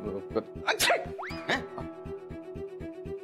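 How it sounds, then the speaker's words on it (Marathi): A sharp, close sneeze from a person with a slight cold bursts out once over a steady, rhythmic pulsing hum, followed by a softer breathy catch. "सर्दी झाली थोडीशी, मी शिंकलो"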